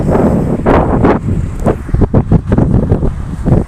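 Strong, gusty wind roars and buffets the microphone outdoors during 170 cm kite flying, with loud irregular bursts of rushing air throughout.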